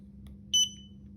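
A single short electronic beep from the buzzer of a digital torque wrench, a crisp high tone lasting a split second over a quiet background hum.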